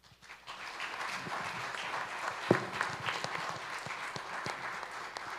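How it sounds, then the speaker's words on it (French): A conference audience applauds panel speakers at a research-funding event. The clapping is steady and moderately loud, with many hands together for about five seconds and one sharp louder clap near the middle. "Et je vous invite à les applaudir chaudement."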